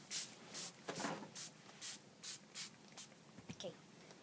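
Short bursts of spray from a pump bottle of hair detangler onto a doll's hair, about nine quick spritzes in an uneven rhythm, close by and fairly quiet.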